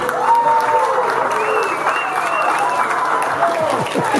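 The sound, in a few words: audience applause for committee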